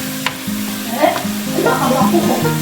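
Adobong kangkong (water spinach) being stirred in a pan, with close scraping and stirring strokes over a steady sizzle that grows busier toward the end.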